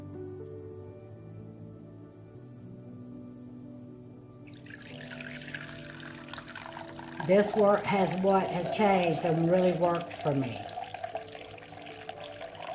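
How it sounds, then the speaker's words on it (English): Hot tap water runs from a faucet while a person talks over it, a steady splashing stream that starts partway through and continues under the speech. "You do 200 grams of tap water."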